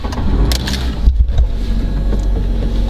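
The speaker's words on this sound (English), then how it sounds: "The engine comes to life." A 2011 Fiat Panda with a 1.2-litre engine starts up close by: a brief crank and catch, then a steady low idle from inside the car.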